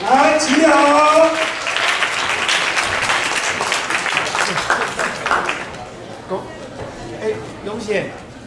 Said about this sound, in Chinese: 我们热烈掌声